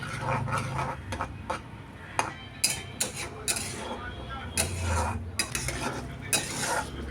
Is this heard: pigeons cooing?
no